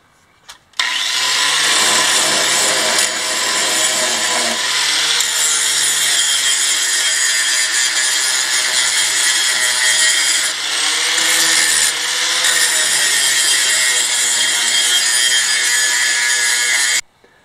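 A swinging-blade lumber mill saws through wood, a loud continuous grinding whine that runs steadily for about sixteen seconds with slight shifts in pitch as the cut progresses, then stops abruptly.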